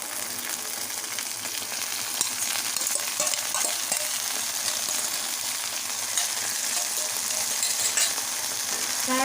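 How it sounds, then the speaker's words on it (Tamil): Garlic sauce for chicken manchurian sizzles and fries in a pan over medium flame while being stirred, a continuous close crackling hiss with occasional scrapes of the spoon. "இந்த பூண்டு சாஸ் எல்லாம் ஒன்றா கலந்து வர வரைக்கும் மீடியம் ஃப்ளேமில் வச்சு நம்ம வதக்கிக்கலாம்"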